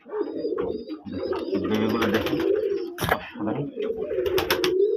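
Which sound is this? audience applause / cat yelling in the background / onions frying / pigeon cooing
pigeon cooing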